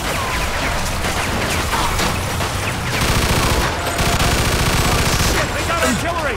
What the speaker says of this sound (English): They got artillery!